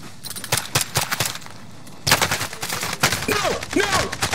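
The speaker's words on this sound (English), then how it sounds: "Under hostile fire." Rapid automatic gunfire in Call of Duty Warzone, loud repeated bursts of sharp shots in quick succession, a brief pause then more firing with ricochet-like whistles, all up close and without talk.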